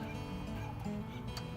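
Backyard chickens on a tiny farm cluck and murmur in the morning, a continuous dense chorus of low fowl calls close by, with no one talking.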